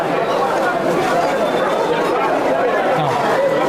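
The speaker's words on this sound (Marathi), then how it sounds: "आज रविवार असल्यामुळे खूप सारी गर्दी आहे" Crowded Sunday hubbub at the Golden Temple gurdwara in Punjab, an unbroken wash of many people talking at once, near and steady at an even loudness.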